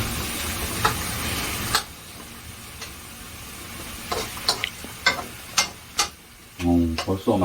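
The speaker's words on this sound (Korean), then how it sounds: "이거 볶는 중이에요, 지금." Jjamppong ingredients stir-frying in chili oil at home, a soft steady sizzle with scattered clicks and scraping taps of a utensil against the pan, close by and fairly quiet, with a brief low voice near the end.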